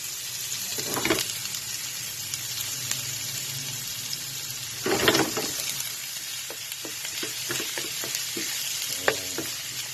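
Baby squid sautéing in olive oil and garlic in a pan, with a steady close sizzle and occasional louder bursts as the utensil stirs and scrapes, with no talking.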